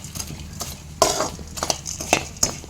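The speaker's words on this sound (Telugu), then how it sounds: "దీన్ని ఇదే నెయ్యిలోకి వేసుకోవాలి. వేసుకొని కలపాలి బాగా" Rusk being stirred into hot ghee for rusk halwa, a spoon scraping and clinking against the pan in irregular bursts, close and alone with no talk.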